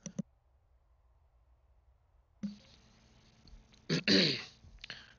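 A couple of short, harsh coughs near the end after a quiet stretch, with a brief click at the start.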